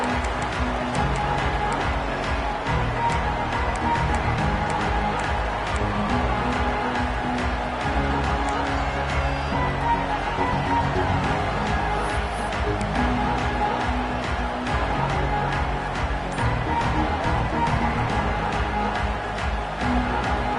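In EA College Football 26, a stadium crowd at a Texas A&M at Arkansas game keeps up a dense, continuous loud roar with no letup, with a voice mixed into the din.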